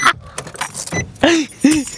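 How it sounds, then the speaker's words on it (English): Car keys jangle in short metallic bursts close by, as if an ignition is being worked. A few brief chirps follow near the end. "Turn the fucking car back on."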